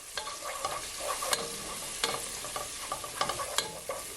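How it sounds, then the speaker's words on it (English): Curry powder being stirred into rice frying in a pan, with steady sizzling and scattered scraping spoon strokes, close and fairly loud, no talk. "now I'm gonna add my curry powder. And you just want to mix it all in."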